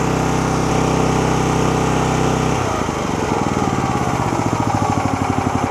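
Engine of a Wolfe Ridge 28 Pro-X with its fuel valve shut off runs loud and close with a steady hum, then idles down into a slower, rhythmic chugging pulse.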